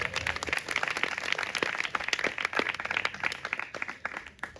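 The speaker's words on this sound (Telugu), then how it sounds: "చప్పట్లు కొట్టండి." A church congregation clapping together during a pastor's Christmas sermon, a dense, sustained patter of many hands at moderate volume without speech.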